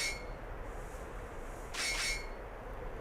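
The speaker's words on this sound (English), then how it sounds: "that's the sound of the Naga banging his claws together" In the Monster Rancher video game, a Naga monster bangs its claws together, giving faint metallic clanging and scraping tones over a low game-audio hum, with one brighter burst near the middle.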